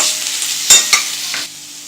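Onions sauté in a pan with ginger garlic paste for a vegetable paneer pulao, a close, steady sizzle broken by a couple of sharp scraping stirs before it settles to a quieter hiss.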